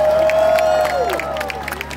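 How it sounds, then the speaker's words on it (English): Brief crowd applause and cheering for legislators at a gathering, a short swell of clapping and voices beneath a lingering sustained tone, fading slightly toward the end. "So I think we owe them a bit of applause as well."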